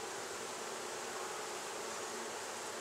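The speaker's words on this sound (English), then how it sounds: "Nice calm bees." Calm bees at an opened hive with worker brood, making a dense, continuous buzzing hum that stays steady and close throughout.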